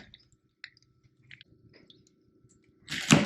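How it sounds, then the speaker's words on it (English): Pecan shells cracked with a small handheld nutcracker: soft, scattered clicks and faint crunches in near silence, then one loud, sharp crack close by at the end. "we're just going to crack some and shell some of these yummy pecans"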